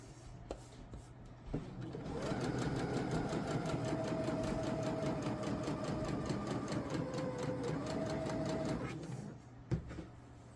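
Sewing machine stitching folded shirt fabric, a rapid steady mechanical chatter running for about seven seconds between quiet moments with small clicks and handling sounds at start and end.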